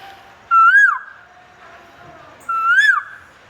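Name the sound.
person imitating a cuckoo bird call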